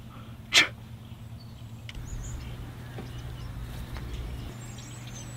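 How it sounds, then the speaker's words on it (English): A single sharp sneeze bursts out once near the start, close and loud, then gives way to a low steady room hum with faint scattered background noises. "Think it's cool to sneeze in someone's prox, bro?"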